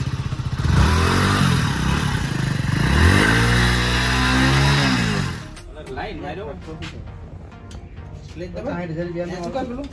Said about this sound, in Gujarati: હા, થઈ ગયું, સ્ટાર્ટ થઈ ગયું. Hero bike Splendor plus.